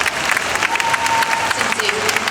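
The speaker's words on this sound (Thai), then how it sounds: "ขอเสียงปรบมือให้กับ Miss Grand Thailand กับพี่นวัดด้วยนะคะ" An audience at the Miss Grand Phuket 2024 farewell gives steady, close applause in honour of Miss Grand Thailand, with dense clapping filling the brief moment.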